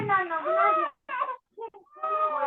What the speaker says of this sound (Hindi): किसका बच्चा रो रहा है?